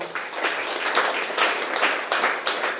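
Church congregation clapping together at a Sunday service in Rwanda, a steady, dense burst of many hands sustained throughout, loud and close, with no talking over it.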